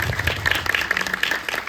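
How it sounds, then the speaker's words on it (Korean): An audience at a film screening talk applauds an award-winning actress with steady, moderately loud clapping from many hands spread across the room. "박수 한번 부탁드릴게요."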